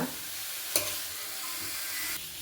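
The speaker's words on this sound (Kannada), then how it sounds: "ಒಂದು ಐದು ನಿಮಿಷನಾದರೂ ಈ ಥರ ಬಡ್ಸ ಬಡ್ಸ್ಕೋಬೇಕು" Grated carrot for halwa is stirred in a hot pan, giving a steady broadband sizzle and soft scraping with one brief knock of the spoon near the start, close and moderately quiet.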